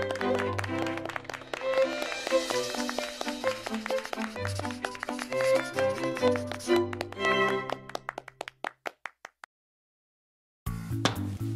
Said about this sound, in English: That is the sound of a high compression golf ball.